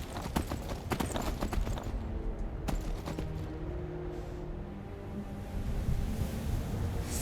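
Steady, moderately loud clip-clop of a horse's hooves in the game Skyrim, a rhythmic trotting cadence over a dense ambient background with no talking.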